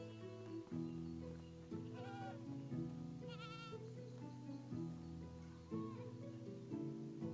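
Sheep bleat near a farm in the medieval survival game Medieval Dynasty, a few wavering calls rising over a busy layer of game music that plays throughout.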